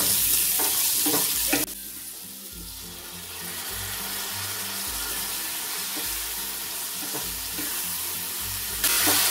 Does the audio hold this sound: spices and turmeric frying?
yes